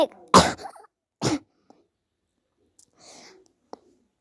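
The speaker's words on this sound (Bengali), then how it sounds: "আমার আসলে একটু কাশি হয়েছে তো তাই" A person coughs twice in quick, sharp bursts, close and fairly loud, followed by a softer breathy throat sound and a small click in an otherwise quiet outdoor setting.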